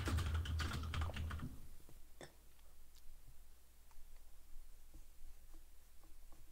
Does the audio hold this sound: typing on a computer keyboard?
yes